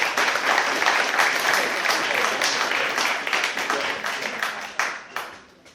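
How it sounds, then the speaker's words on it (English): Audience applause at a Christchurch evening talk, dense clapping from a crowd that holds steady and then tapers off toward the end, heard fairly close with no talk over it. "Give him a round of applause, guys."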